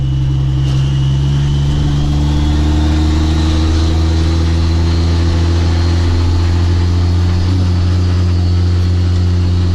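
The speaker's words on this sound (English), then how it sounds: "This thing's loud with the exhaust and no floor." A heavily modified Cummins 6.7 diesel truck engine drones loud and steady through a loud exhaust, a deep constant rumble heard up close from inside the cab, with no talk over it.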